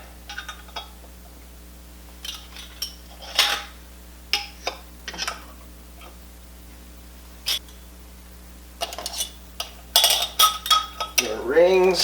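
Metal lids set onto glass canning jars packed with moose meat for bottling, a scattered series of light clinks and taps, with a louder cluster of metallic clatter toward the end.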